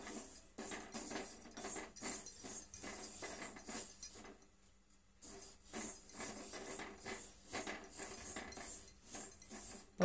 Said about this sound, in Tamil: இப்போ வந்து எள்ளு சூடேறிக்கிட்டு இருக்கு, நல்லா பொரியட்டும்.